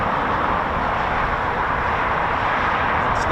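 An RAF Red Arrows jet, Red 10, approaches during training at RAF Waddington, producing a loud, continuous broadband roar that holds steady throughout.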